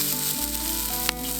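Steaks sizzle on an outdoor cooking setup, a loud continuous close-up crackle and hiss of meat frying that holds steady throughout the short stretch.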